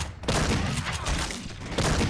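Shotgun blasts from a Halo-modded chrome shotgun in the video game Left 4 Dead 2, loud and dense with overlapping battle noise and gunfire throughout a short burst.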